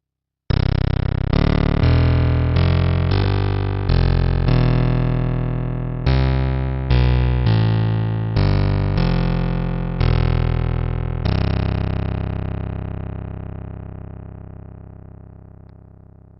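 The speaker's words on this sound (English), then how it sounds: "Let's add a bit of noise to the sine wave." A buzzy synthesized sine-wave tone with added noise plays a sequence of sustained notes with a noisy edge, each note starting sharply, the last one decaying slowly into silence.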